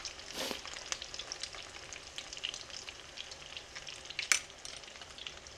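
Wild caught salmon cakes fry in a pan with a soft, steady sizzle and occasional sharper pops and crackles, close but fairly quiet, with no voices.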